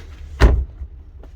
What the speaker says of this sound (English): What about with the door closed?